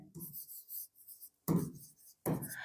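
A marker scratches across a board during an English grammar lesson in short, crisp strokes, alternating with a teacher's speech.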